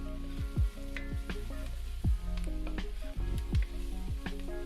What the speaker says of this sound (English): I'll let those spices bloom and fry in the oil for 30 seconds